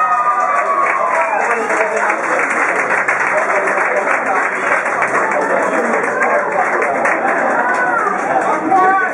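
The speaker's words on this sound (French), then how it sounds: "Je vous demande un dernier applaudissement pour Mister Silva" Crowd at a Mister Open Bar 2010 election contest in Liège giving a loud, sustained round of applause, steady clapping mixed with cheering and chatter that fills the whole stretch.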